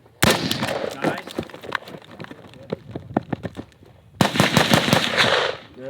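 Rifle shots crack at an outdoor shooting range in quick uneven strings of sharp, loud reports, with short pauses between volleys and people talking faintly around the firing.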